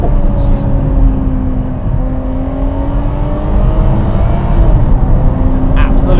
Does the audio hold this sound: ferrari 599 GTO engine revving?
yes